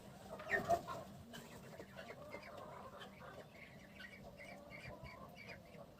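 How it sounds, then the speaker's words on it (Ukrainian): Newly hatched ducklings peep and cheep in quick, irregular calls, faint and close, with one louder squawk near the start and no talking. "Каченята кричать."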